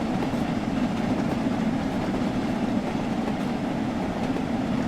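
Steam locomotive running in Train Sim World 6, a steady rumbling roar of the moving train with faint rail clatter and no talking.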